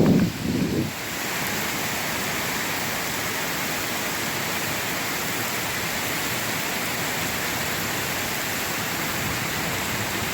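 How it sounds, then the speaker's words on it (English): Steady heavy rain pours down in a hailstorm as a loud, even hiss throughout, with a brief rougher, noisier stretch at the very start. "A lot more rain than the weatherman said."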